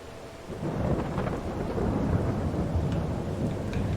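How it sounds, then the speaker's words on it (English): Steady rain with rolling thunder falls in a Farming Simulator 22 weather scene, a dense continuous hiss and low rumble at moderate level with no talk over it. "There's the rain again."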